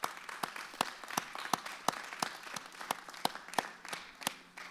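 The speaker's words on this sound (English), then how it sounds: "So I hear some rounds of applause. Let's do that." A crowd claps at a community stage grand opening: sharp, scattered hand claps form a steady patter of moderate, fairly distant applause with no talking.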